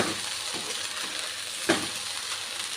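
Chicken fried rice stirred in a pan over low sizzling, with soft scraping strokes and one sharper clink of the utensil against the pan partway through.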